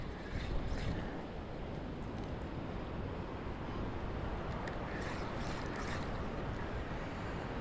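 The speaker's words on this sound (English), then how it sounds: "I hope you guys can hear me with that wind." Strong wind buffeting the microphone on a boat during Florida saltwater fishing, a loud, constant roar with gusty swells and faint water sounds underneath.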